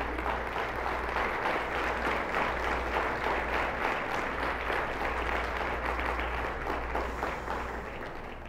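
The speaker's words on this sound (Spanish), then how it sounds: "Dale un fuerte aplauso a Dios." Congregation clapping during a church sermon, a dense and sustained wash of applause at a steady level over a low background hum, gradually easing toward the end.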